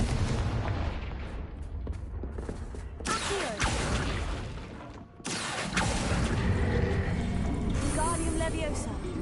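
Confringo blasting spells cast in Hogwarts Legacy, heard as loud booming bursts with crackling blast energy, a brief lull near the middle, then more dense explosive rumble and game effects.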